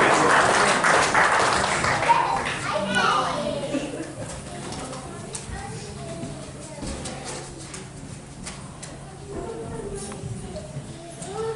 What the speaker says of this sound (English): Let's give God applause for our babies.